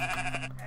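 A sheep in the video game Moirai lets out a short, nasal bleat, close and clear, with a quivering tone over steady background game music.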